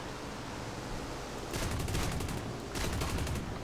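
Cannon fire in a combat video game comes as two loud bursts of broadband blasts with rapid repeated reports, the first at about 1.5–2.3 s and the second from about 2.8 s, over steady background rumble.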